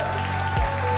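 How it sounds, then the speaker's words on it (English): Loud crowd applause greets a wrestler's entrance at a live wrestling show, a continuous roar of clapping with a brief low thump partway through. "Un tonnerre d'applaudissements pour l'une des grandes fiertés de l'Europe"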